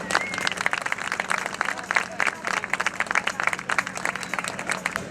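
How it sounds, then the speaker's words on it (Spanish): Crowd applauding at the starting ceremony of a 2018 rally in A Coruña, lively sustained clapping from many people outdoors with crisp individual claps standing out and a faint hum beneath. "les doy un aplauso muy grande"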